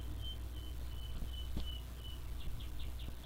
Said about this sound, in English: Yeah, the birds are chirping.